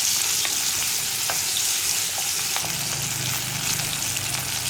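Chopped ginger and onion sauté in hot oil in a pan, giving a steady close sizzle with light stirring scrapes throughout and no voices.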